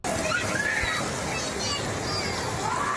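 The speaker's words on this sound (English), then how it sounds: "You can hear the screams from shocked residents stunned by the rushing water." Rushing floodwater from a massive, deadly flash flood tearing through a small town on the Arizona-Utah border, a loud continuous roar and splash with residents' voices and screams mixed in throughout.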